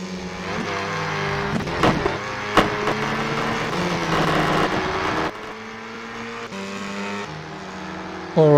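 Several Formula 4 cars at Thruxton in a British championship sim race snarl and whine with shifting engine pitches, squeals and cuts, fairly loud and continuous with little talk.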